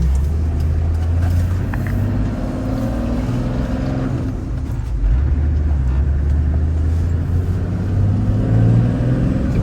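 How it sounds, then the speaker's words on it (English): A 1997 Toyota Land Cruiser HZJ75 diesel engine warms up on a cold, windy day, its low, steady rumble running continuously close by, with a faint turbo whine riding over the drone. "Boost gauge on my upper right up here, so can definitely hear the turbo"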